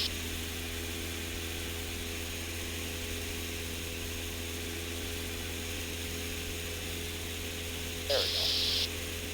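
A light aircraft engine at about 2550 RPM in cruise flight makes a steady, even drone with a constant hum. A short tone sounds near the end.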